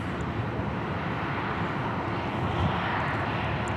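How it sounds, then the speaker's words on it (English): A NetJets business jet arriving at Dallas Love Field gives a steady broadband engine roar that holds constant and close throughout. "it's like a NetJets coming in from Kansas City."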